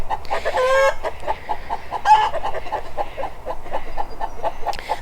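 Backyard chickens in a netted pen cluck continuously in a busy overlapping chorus, close by, with a few louder squawks standing out and no talk.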